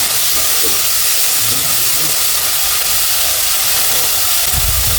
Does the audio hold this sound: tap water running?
no